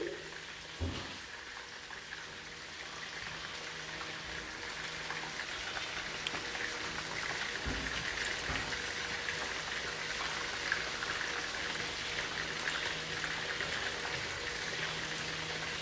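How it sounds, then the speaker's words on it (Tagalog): Food frying in hot oil on a home stove, a steady dense crackle and sizzle that keeps going for the whole stretch, with a few louder pops near the start. "Ang hirap magprito pala"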